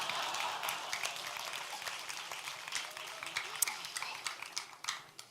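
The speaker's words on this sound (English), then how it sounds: "The women clap." A room full of women applauding at an evening Sahasrara Puja program, dense steady clapping that stays strong throughout and thins slightly near the end.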